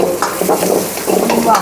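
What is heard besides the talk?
onion and capsicum frying on high heat for chilli chicken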